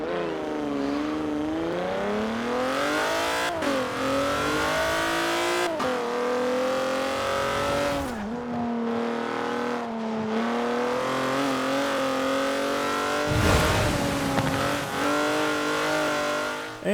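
Kia Stinger rear-wheel-drive engine in Forza revs loudly and continuously, pitch climbing and dropping across several gear-like sweeps, with sharp crackling backfire pops near the end; no talking.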